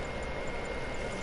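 Steady whirring hum of the spider drone gadget in Marvel's Spider-Man on PS4, a continuous close drone-like buzz with no talk over it.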